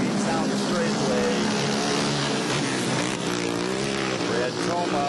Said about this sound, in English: that quad is making a different sound. It sounds like he's got a 4-cylinder engine in there